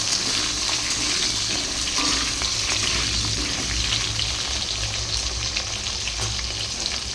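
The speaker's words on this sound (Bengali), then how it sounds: "এদিকে দেখো আলুটা একটু ভাজা হয়েছে" Potatoes fry in oil in a pan in a home kitchen, a loud, continuous hiss and crackle that holds steady throughout with no speech.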